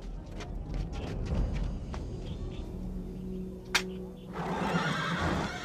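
A horse neighs in a historical drama scene, with a sharp, loud whinny cutting through steady rumbling background noise and the clatter of hooves.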